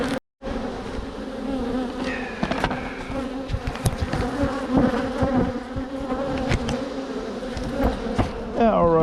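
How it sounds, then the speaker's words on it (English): Honeybees buzz in a dense, steady swarm around a hive, close and loud, with a few individual bees droning past. "they're really buzzing like crazy, but they're not vicious right now at all"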